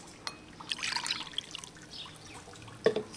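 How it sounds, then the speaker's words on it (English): Vinegar trickles and splashes into a clear bowl, a light uneven pour of liquid that ends with a brief louder splash and clink near the end, close and with no one speaking. "pour your vinegar into the vinegar bowl"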